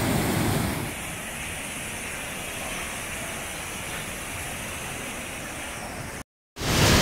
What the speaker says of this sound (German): Schöner Wasserfall von oben.